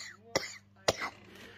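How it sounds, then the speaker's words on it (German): Two sharp coughs from a person with a cold, close to the mic and alone, spaced about half a second apart with a raspy, throaty tail after the second. "Ich kann kaum reden und muss ganz viel husten."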